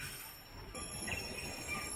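Train cars of the St. Kitts Scenic Railway roll along, giving a low, steady rumble with faint metallic squeals and clatter, moderately quiet and without speech.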